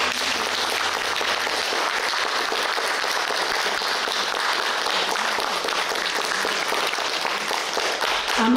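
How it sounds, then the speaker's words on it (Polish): Sustained audience applause fills a concert hall after a performance at an autumn culture festival in Miechów, a dense even clatter of many hands that stays loud throughout with no voices on top. "dziękujemy Państwu za brawa, za skupienie, za życzliwą uwagę"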